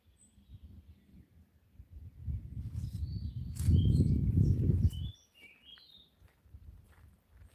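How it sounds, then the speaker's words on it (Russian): Birdsong in a forest: faint, high chirps and short tweeting phrases scattered through the second half, over low rustling and footstep-like patter that swells in the middle, then quiets. "Вам слышно, как поют птицы?"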